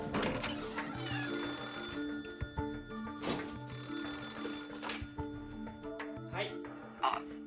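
An old telephone bell rings in repeated bursts under background music, a few distinct rings spread across the stretch.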